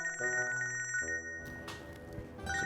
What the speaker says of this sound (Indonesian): Sebentar Ji, telepon saya bunyi.